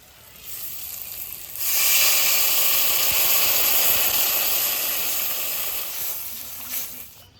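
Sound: water poured into hot pan of fried tamarind, hissing

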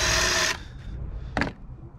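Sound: drill with bigger drill bit clearing debris

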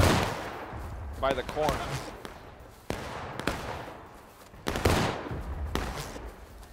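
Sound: rifle gunfire from the video game War of Rights

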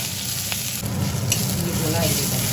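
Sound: chili and ginger paste sizzling in hot oil

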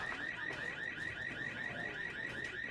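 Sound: alarm sounding in the video game Watch Dogs 2

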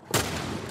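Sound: gunfire in video game The Last of Us Part 1

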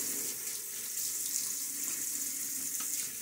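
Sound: quick water splash from tap while wet shaving

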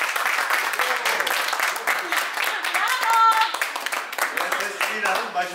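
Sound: people applauding a child skater

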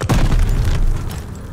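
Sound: grenade explosion in video game Call of Duty: Vanguard

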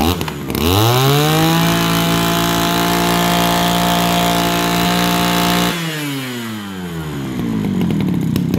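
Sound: small engine revving

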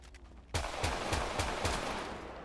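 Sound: gunfire in video game GTA 5

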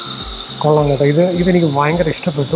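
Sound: played forest ambience recording with crickets in museum AV room

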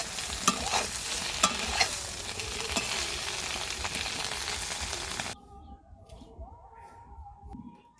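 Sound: egg paneer pieces frying in oil

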